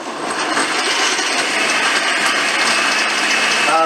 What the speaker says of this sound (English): try to have a quieter blender.